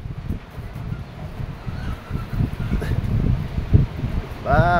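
Gusty wind blows outdoors during a windstorm in Beni, Nepal, rumbling and buffeting the microphone in uneven surges. A brief wavering tone rises at the very end.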